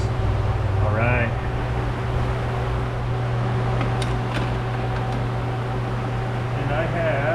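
Vacuum pump evacuating a car's air conditioning system, a steady mechanical hum with a constant low drone running throughout, fairly loud and close, with brief faint clinks and a voice speaking over it.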